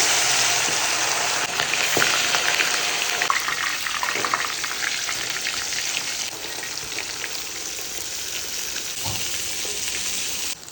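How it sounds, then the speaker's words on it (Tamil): Marinated fish fries in hot oil with a loud, continuous crackling sizzle that holds steady for about ten seconds, with a few faint clinks over it and no voices. "அப்படியே எண்ணெயில போட்டுக்கலாங்க."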